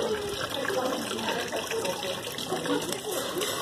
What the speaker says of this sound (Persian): یه آب نمای خوشگل اینجا داره،